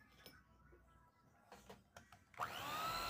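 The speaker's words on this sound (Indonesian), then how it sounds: "Sekarang kita mau lanjut kocok margarin." An electric mixer beating margarine with condensed milk for a layered cake starts up near the end, whirring loud and close after a few quiet clicks and knocks from the kitchen.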